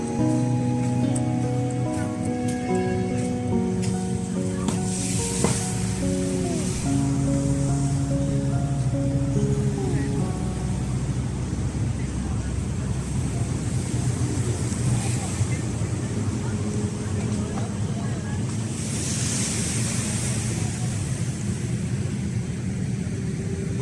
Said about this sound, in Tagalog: nakaka-relax po yung tunog ng alon